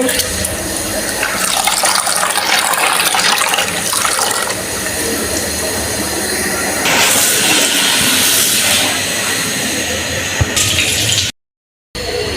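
Tap water running steadily into a kitchen sink while a cooking pot is washed, a constant gushing rush that brightens partway through, then cuts off briefly near the end.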